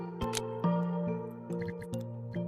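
Eye drops squeezed into a pet's reddened eyes in the VR game Pets and Stuff VR, a few soft wet drip and squish sounds over a low tonal music bed.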